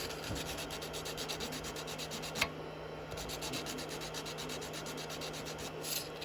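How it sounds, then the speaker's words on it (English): Sandpaper rubs back and forth over a wooden birdhouse in a woodturning workshop, a steady close scratching rhythm with a constant low hum underneath and one sharp knock partway through. "Got the sandpaper."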